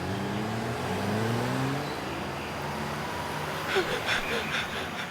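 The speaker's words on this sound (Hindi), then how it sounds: "गाड़ी की आवाज।" A car engine hums and drones steadily with a low rising tone, joined near the end by rough rattling bursts, loud and continuous throughout.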